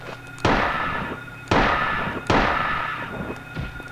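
Three loud, booming gunshots from Harry's weapon in the survival horror game Silent Hill, spaced about a second apart, each with a long decaying tail over a low background hum.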